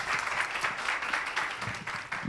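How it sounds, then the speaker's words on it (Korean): An audience at a university history department's 70th-anniversary talk concert applauds to welcome an alumna guest, a brief burst of dense, lively clapping from a room full of people. "여러분 저 큰 박수로 맞이해 주십시오."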